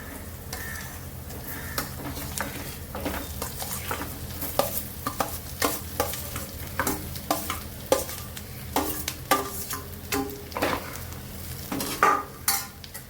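Potato chunks fry in oil in a pan with turmeric, stirred by a utensil that scrapes and taps the pan in quick irregular strokes over a constant soft sizzle, with no voices.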